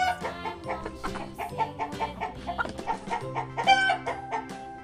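A hen clucking in a series of short, rhythmic calls set against a bouncy musical backing, close and fairly loud.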